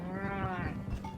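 A single goat bleats once in the video game Farthest Frontier, a short wavering cry, close and clear.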